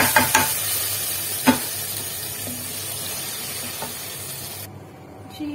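Garlic sizzles in hot oil with a continuous crackling hiss, punctuated by a few sharp clinks of a utensil stirring the pan.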